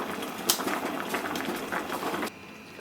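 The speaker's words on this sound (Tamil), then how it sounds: "2 உருளைக்கிழங்கு தண்ணி ஊற்றி நல்லா வேக வச்சுக்கணும்" Two potatoes boiling in a pot of water while making a crispy potato rice snack: continuous close bubbling and popping that stops abruptly near the end.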